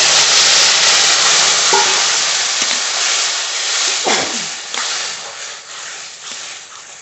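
Fried prawns and taro stolons in spiced gravy sizzling loudly in a pan, with a strong hissing fry fading gradually as a spoon stirs and scrapes in several distinct strokes.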